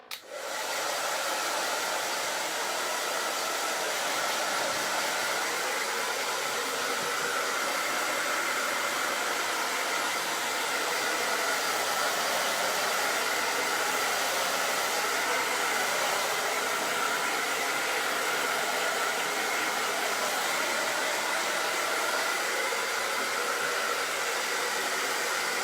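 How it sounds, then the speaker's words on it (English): A hair dryer blows on craft paint to dry it, switching on abruptly and then running as a loud, steady close-up whoosh for about twenty-five seconds with no talk. "I'm gonna hit it with the hair dryer real quick."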